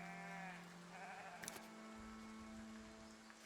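Sheep bleat in a town-building video game, a few drawn-out bleats close by over a steady tonal hum and faint game sounds.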